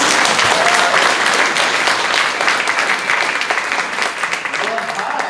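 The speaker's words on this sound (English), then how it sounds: "Round of applause for Bill." Audience applause fills a Democratic Club meeting room, a steady dense clapping from the crowd that holds loud throughout before easing slightly toward the end.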